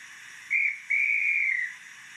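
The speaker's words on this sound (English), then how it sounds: "Guard's whistle." A guard's whistle effect from a sound-fitted Accurascale J68 model locomotive: a short shrill blast, a brief break, then a longer sustained tone that fades out, clear and close with no talking.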